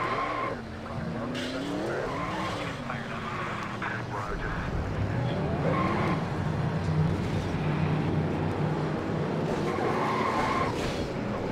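Several NASCAR race car engines in NASCAR Racing 2003 fire up and rev with rising and falling drones, a steady loud roar throughout under people talking.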